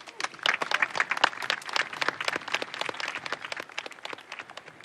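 A crowd applauds steadily, with many hands clapping in a dense, continuous patter that stays fairly even throughout.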